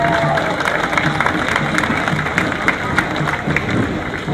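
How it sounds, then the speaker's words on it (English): An outdoor crowd at a Memorial Day parade applauds, a loud, continuous rumble of clapping mixed with general crowd noise and some cheering, sustained at an even level throughout. "let's give them a big round of applause"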